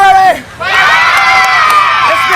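Crowd at an E30-Wrestle Club wrestling anniversary show cheering loudly and steadily after a brief dip, a dense roar of shouting voices with higher children's yells mixed in.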